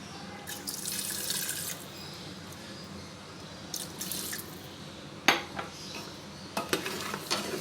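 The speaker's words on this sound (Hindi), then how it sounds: "आप इसके अंदर थोड़ा सा पानी ऐड कर लें।" Water splashes and trickles into a pot of mutton qorma, followed by a few clinks of a utensil against metal, close by with no talking.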